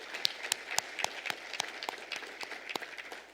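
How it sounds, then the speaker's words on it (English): Audience applause at a business economic forecast luncheon, greeting the event sponsors: a brief, fairly faint spatter of scattered hand claps with no voices over it. "Please, a great round of applause to our co-presenting sponsors."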